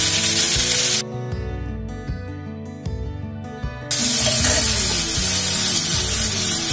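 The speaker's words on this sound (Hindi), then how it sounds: "उसके बाद ये प्याज डाल दूंगी।" Onions are dropped into hot oil already seasoned with cardamom and star anise, bursting into a loud, bright, steady hiss and sizzle that starts abruptly partway through over background music.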